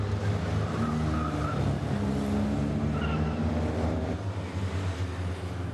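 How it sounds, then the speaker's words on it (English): Citroen 2CV race cars circulate at Mallory Park, with small engines droning steadily at a distance under a continuous broad rumble of track noise, and gear-change tones rising and falling faintly. "Fritchley and Fox overlapping as they go down towards the S's"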